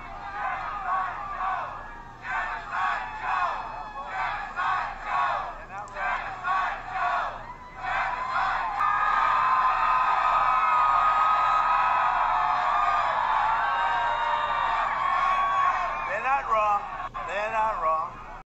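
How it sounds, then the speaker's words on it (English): A crowd of thousands at a Trump rally in Pennsylvania chants "Genocide Joe" in rhythmic bursts, then swells into a sustained loud roar of cheering and whooping with babble throughout. "The guys that were chanting Genocide Joe are positively jubilant after the crowd of thousands joined them"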